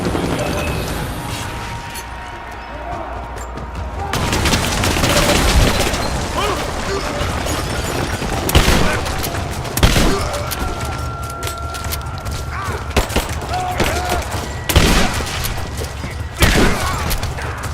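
Gunfire rings out in the Rise of the Tomb Raider video game during a firefight at the edge of a village, with repeated sharp shots and booms over a constant loud battle din as characters shout.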